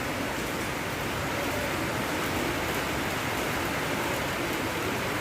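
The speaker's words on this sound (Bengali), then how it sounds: "খুব জোর হয়েছে বৃষ্টি, এখন একটু কমেছে।" Heavy rain pours steadily outdoors, a dense, continuous hiss of drops on surfaces that stays loud and even throughout with no voices.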